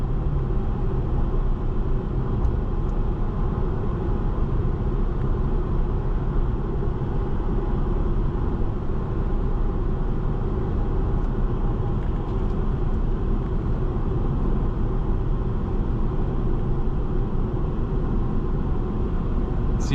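A 2017 Mercedes-Benz C 300 4MATIC with a 7-speed automatic cruises along, a steady low engine and road rumble heard from inside the cabin, even and continuous with no talk.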